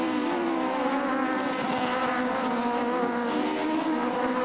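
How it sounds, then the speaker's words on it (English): Legends race cars powered by 1250 Yamaha engines climb uphill at the Cadwell Park circuit, their engines blending into one loud, sustained buzzing drone that holds steady throughout. "let's just stop a moment and enjoy the 1250 Yamaha engines"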